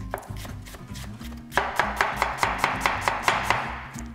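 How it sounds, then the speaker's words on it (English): A knife rough-chops onions on a cutting board in quick, close, regular strokes, slow and soft at first and then a fast, even run of sharp chops. "We just wanna rough cut these onions, nothing special."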